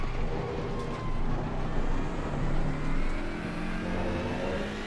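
A race car engine in Assetto Corsa Competizione with automatic shifting drones loudly and continuously, revs swelling and dipping in waves through gear changes, steady and close throughout.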